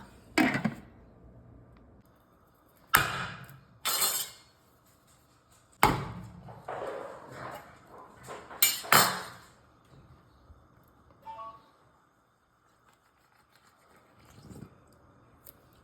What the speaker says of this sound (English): then we will put this lid back on to let it finish cooking